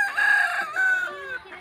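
A rooster crows on a rural communal farm, one long drawn-out cock-a-doodle-doo heard fairly close and loud, ending with a short catch at the close.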